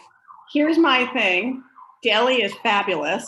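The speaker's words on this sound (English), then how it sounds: "I have sirens, of course, coming. I don't know if you guys can hear them down my street right now." Emergency sirens travel down a residential street, a faint rising and falling wail heard mostly in the gaps between someone's steady talking.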